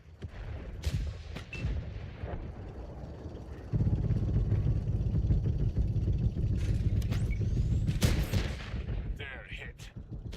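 Tank cannon fire and shell hits in the video game World of Tanks, sharp booming impacts over a low rumbling engine drone that swells midway, with scattered crackles and game voice lines.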